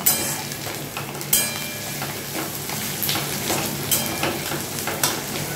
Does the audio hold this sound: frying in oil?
yes